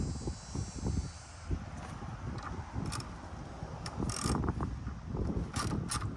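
A ratchet loosens the 10 mm battery terminal bolt on an Acura MDX, giving scattered short clicking bursts of varying loudness against a steady workshop background, with no talking.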